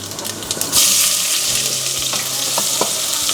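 Onion frying in hot oil with mustard seeds and urad dal gives a steady, bright sizzle that jumps louder near the start, with light spatters and stirring scrapes and no voices.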